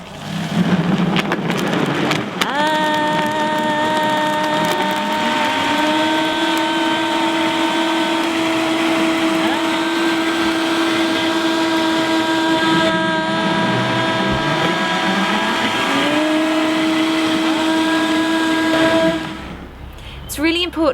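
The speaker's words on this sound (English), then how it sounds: "Get the lid and we're going to give it a whiz." A blender whizzes a smoothie with protein powder, a loud, close, steady motor whine whose pitch shifts as the load changes, running for about sixteen seconds before stopping.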